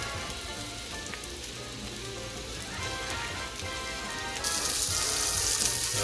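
Vegetables for gumbo crackle, pop and sizzle steadily in a hot pot, with a dense frying patter that grows louder toward the end.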